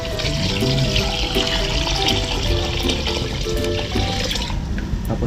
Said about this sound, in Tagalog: Lagyan ko na siya ng tubig.